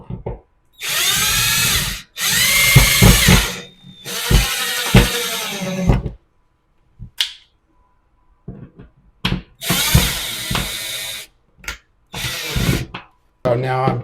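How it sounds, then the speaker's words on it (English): A cordless power screwdriver drives long screws into a bathroom mirror bracket in several whirring bursts of a second or two each, close and loud, with pauses and short stuttering pulses between them. "and then I can tighten it with the screwdriver."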